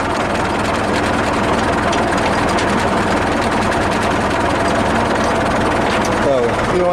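An IMT 558 tractor engine runs steadily while mowing with a Krone Active Mow 200 mower on uneven ground, a continuous loud rumbling drone that persists throughout with no pauses.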